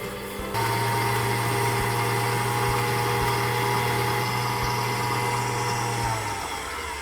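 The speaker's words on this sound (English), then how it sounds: "that just needs to be beat together on quite a high speed for about 4 or 5 minutes" An electric mixer beats butter and caster sugar at high speed for cookie dough, a steady, loud motor whine and whir that runs continuously, starting abruptly and winding down near the end.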